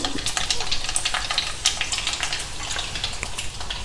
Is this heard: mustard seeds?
yes